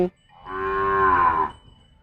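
An Indu-Brazil cow moos once at a cattle show, a long, loud, close bellow of about a second that rises and fades, with a short noise before it and near silence after.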